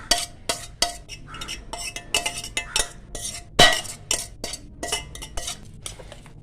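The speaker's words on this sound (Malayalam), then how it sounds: "ഇനി അരപ്പിൻ്റെ കൂടെ നന്നായി മിക്സ് ചെയ്യുക" A spoon scrapes and clinks repeatedly against a pot while beetroot pachadi is mixed with ground paste, producing a quick, irregular rhythm of close, sharp metallic taps.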